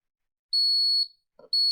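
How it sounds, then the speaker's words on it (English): A homemade digital watch timer sounds two sustained high-pitched electronic beeps, each about half a second long, separated by a brief soft click, close and clear with no talking. "as you can see it starts beeping, which means I can press the button to turn it off"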